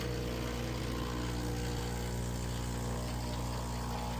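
A Breville BES870XL espresso machine pump hums loudly and steadily while pumping water, a constant droning buzz with no talking.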